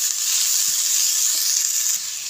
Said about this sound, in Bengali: আবার 2 মিনিটের মতো আমি নাড়াচাড়া দিয়ে ভেজে নেব